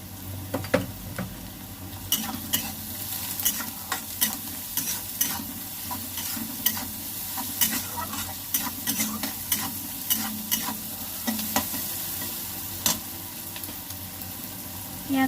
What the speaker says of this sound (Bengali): লাল লাল করে ভেজে নেব পেঁয়াজটা।